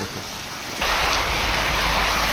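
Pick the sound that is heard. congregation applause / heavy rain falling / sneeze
heavy rain falling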